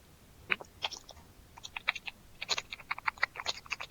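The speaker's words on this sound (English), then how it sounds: "I expect somebody is chewing some bubblegum or something like that." Close, wet chewing of bubblegum: a steady run of sharp smacking clicks with no talk over it.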